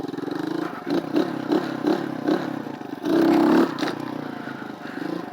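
A motorcycle engine revs in short repeated bursts as the rider works the clutch to lift into a wheelie, ending in one longer, louder throttle surge before settling back; close and moderately loud.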